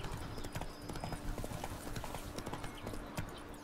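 Hooves of Roach, a horse in the video game Witcher 3, clip-clop at a steady walking rhythm, close and clear, with soft ambient game sound beneath.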